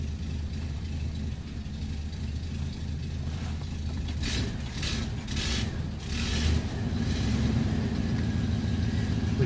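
A car engine idles steadily with a low, continuous rumble, a brief rise in revs midway, and no talking.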